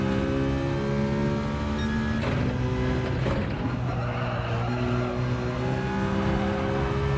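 Race car engine from Gran Turismo 7, droning steadily with pitch shifts as the throttle is lifted and reapplied, a continuous moderate game engine tone with no talk over it.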